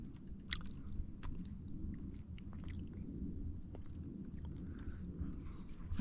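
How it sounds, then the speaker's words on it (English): Someone chews a fresh sweet birch twig at a mountaintop in Lehigh County, Pennsylvania, with faint, close, soft crunching and squishy bites over a steady low outdoor rumble. "this birch, let's taste it."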